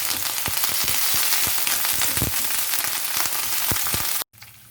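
Chopped shallots and curry leaves frying in hot coconut oil for a Kerala-style fish curry tempering: a loud, dense, continuous sizzle crackling with small pops, cutting off abruptly near the end and leaving quiet behind.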